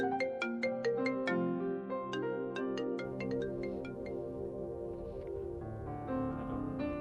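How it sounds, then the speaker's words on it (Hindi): A mobile phone ringtone plays a bright melodic tune of quick chiming notes, repeating as an incoming call keeps ringing, clear and close with no talking over it. "किसकी कॉल आ रही है बार बार?"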